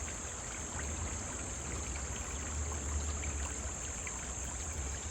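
A small babbling stream in the woods gives a faint, steady trickle and gurgle of shallow water, continuous and without voices.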